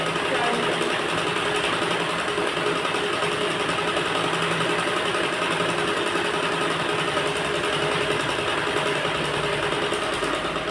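A sewing machine runs steadily while stitching a net fabric blouse, its dense mechanical whir continuing unbroken and fairly loud throughout, with no pauses between stitches.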